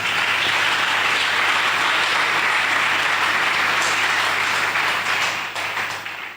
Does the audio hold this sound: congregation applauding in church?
yes